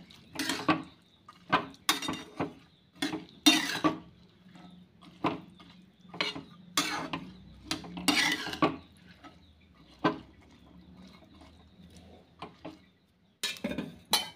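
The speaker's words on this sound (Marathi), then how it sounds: "छानपैकी आता मिक्स करून घेऊया" A spoon stirs spiced chana masala, a chickpea curry, in a metal cooking pot: steady scraping and clinking strokes that repeat at a brisk rhythm, close by and fairly quiet, with no talking.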